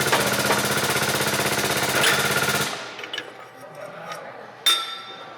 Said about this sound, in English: start pressing the ball joint out of the factory A-arm